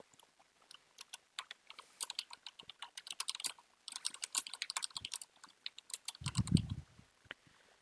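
Notes typed on a computer keyboard, close, quick irregular bursts of key clicks with short pauses and a brief heavier thump near the end, no talking.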